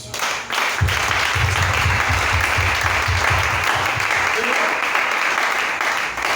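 A church congregation applauds and acclaims Jesus in a loud, sustained burst of clapping with voices in the mix, holding strong and steady throughout.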